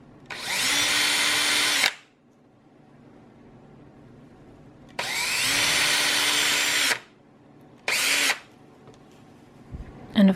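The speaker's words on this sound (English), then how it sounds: "I go to drill each of these" A power drill bores holes in forged carbon fiber in three separate bursts, two long and one short, with quiet pauses between them.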